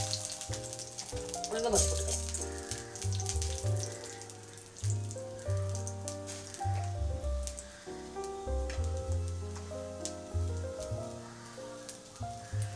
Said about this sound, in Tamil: இப்போ வந்து நம்ம அதை தாளிச்சிடலாம், கடுகு போட்டுக்கலாம்